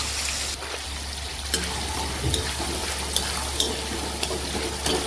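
Garlic, curry leaves, onion and tomato frying in oil while being stirred, a steady faint sizzle and hiss with a few soft scraping clicks of the spoon.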